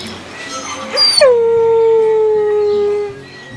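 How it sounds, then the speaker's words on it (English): A single wolf howl rises sharply and then holds a long, steady, mournful tone before fading, clear and fairly close with faint background noise. "We let the wolves howl for us."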